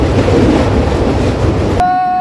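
A passenger train running between Mohammadnagar and Mongla gives a loud, steady rumble of wheels on rail. The roar continues for nearly two seconds, then cuts off abruptly and leaves a faint high tone.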